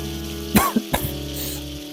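Okra curry gravy going into hot oil in a kadhai brings a short burst of sizzling with a couple of sharp spatters, over a low steady hum.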